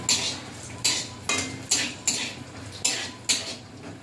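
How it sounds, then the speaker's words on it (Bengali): A utensil stirs cashews and raisins frying in a pan, making about eight sharp metallic scrapes and clinks in an uneven rhythm, close and fairly loud, with no voices. "কাজু কিশমিশটা ভাজা করে নেব।"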